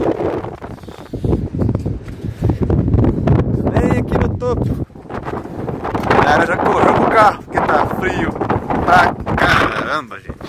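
Strong gusting wind buffets the microphone at a cold mountain road lookout by the Serra do Rio do Rastro sign, roaring in uneven surges while people talk through it.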